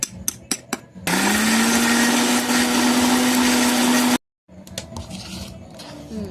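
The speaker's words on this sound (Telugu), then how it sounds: "దీన్ని మిక్సీ పట్టుకుందాం." An Indian mixie (mixer grinder) whirs loudly as it grinds gongura chutney ingredients, starting after a few short clicks, running steadily for about three seconds, then cutting off abruptly before quieter clattering follows.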